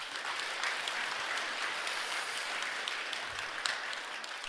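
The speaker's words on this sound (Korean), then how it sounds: "다시 한번 큰 박수 부탁드리겠습니다." Applause from a seated audience after an academic paper presentation, a continuous even wash of many hands clapping, soft and somewhat distant, sustained throughout without talk.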